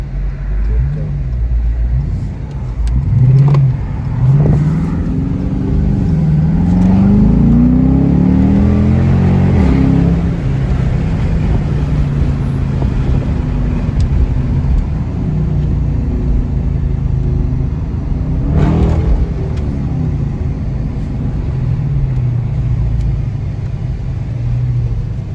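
A straight-piped Dodge Charger, a 2018 model alongside a 2019 GT, revs and accelerates hard through gear shifts, its loud, close, rumbling exhaust rising and falling in repeated pulls.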